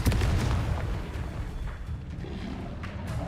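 A Confringo fire spell blasts repeatedly in Hogwarts Legacy on PS5, a dense run of booming, crackling bursts layered close and loud over a rumbling low end, with no talking.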